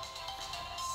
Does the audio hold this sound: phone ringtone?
yes